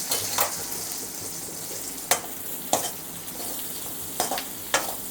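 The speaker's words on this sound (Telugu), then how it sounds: "ఇదే ఆయిల్లో ఆనియన్స్ వేయించుకుంటున్నాను" Onions frying in oil for an egg biryani, a steady close sizzle with a few sharp scrapes of stirring spaced through it, no voices.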